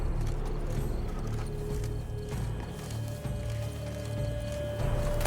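Horse hooves in The Witcher 3 video game clip-clop at a steady walking pace over a constant low hum, with no one speaking.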